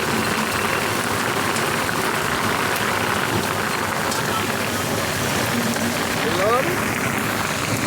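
Heavy rain pours steadily during a thunderstorm, a loud, dense hiss close by, while people talk over it.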